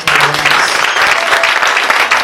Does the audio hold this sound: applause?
yes